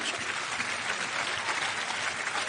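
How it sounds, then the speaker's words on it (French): Steady, dense applause from a large theatre audience at a hypnosis show, loud and continuous throughout with no pauses. "Je pense qu'on peut les applaudir encore une fois."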